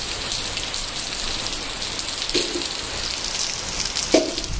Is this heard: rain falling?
yes